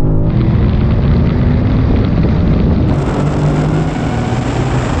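A Mercedes-AMG GT 63 S, a BMW M5 and a Porsche Panamera Turbo accelerate hard from a rolling start in a half-mile drag race, a loud, steady, dense engine roar with a gear change about midway and no voices.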